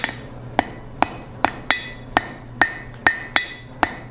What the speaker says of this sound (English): Couple hammer blows to set that weld.